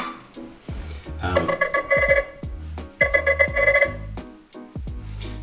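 Two bursts of an industrial-style ringtone from a Nothing Phone 3(a), each a rapid run of bright repeated electronic tones lasting about a second, separated by a short gap and set over low handling and background noise.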